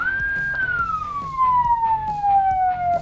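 An ambulance siren wails nearby, its pitch sliding steadily downward, over rumbling traffic and engine noise.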